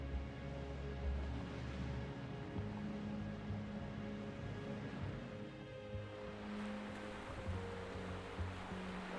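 Ocean waves rolling onto the sandy shoreline of Umhlanga beach in South Africa, a steady broadband wash of surf with low rumbling swells, continuous and fairly close, with no voices.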